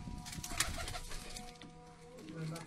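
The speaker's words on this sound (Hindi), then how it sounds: "तो राय साहब के पास ये बेबी पिजन है जी" Baby Lakha pigeon at a breeder's setup, giving soft continuous cooing close by over a steady noisy background.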